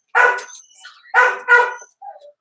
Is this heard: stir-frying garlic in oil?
no